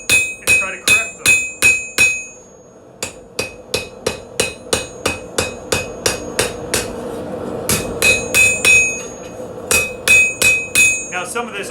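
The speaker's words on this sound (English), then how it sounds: "Just go to hammer those and try to correct them." A hammer strikes a stainless steel knife blade at a forge in steady, ringing blows, a fast series followed by a brief pause and then more regular strikes, close and loud with no talk.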